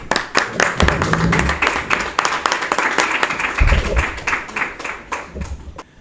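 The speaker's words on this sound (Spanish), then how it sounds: "lo que sí que os pido un gran aplauso para Manuel Bejarano y Julio Pérez Ruiz." An audience applauds at a book presentation, with dense rapid clapping from many hands that fades slightly toward the end, loud and close, with no talk over it.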